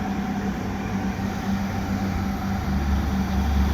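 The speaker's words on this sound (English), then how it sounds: "I'm just going to wait for this train to come by." A short train rumbles through an overcast station, a steady loud low roar and rattle of rail cars that swells slightly toward the end, with no talking.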